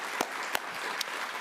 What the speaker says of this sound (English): You all truly should give yourselves a round of applause.